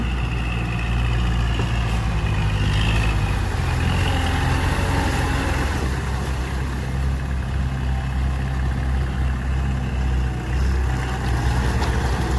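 Two rot thai walking tractors run in a flooded rice field, a steady loud low engine chug with continuous rumble throughout, no voices.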